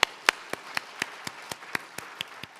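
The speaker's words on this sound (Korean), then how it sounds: "우리 주님께 영광의 박수 올려드리겠습니다" Rhythmic clapping from a church congregation during a worship service, steady hand claps about every quarter second, moderately loud and fairly close, with no voices over it.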